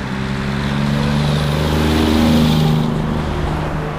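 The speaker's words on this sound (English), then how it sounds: "And it's just a lot of traffic here." Busy road traffic on a main street in Hackettstown, a steady loud engine drone and tyre rush that swells as vehicles pass close by around the middle, then eases slightly.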